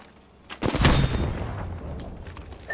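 A gunshot in the battle-royale shooter Apex Legends bursts out suddenly and loud, then decays into a lingering rumbling echo, followed by a faint sharp click near the end.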